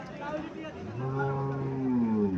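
A calf lets out a drawn-out, rising moo at a busy cattle market in Cumilla, heard close and fairly loud over background crowd chatter.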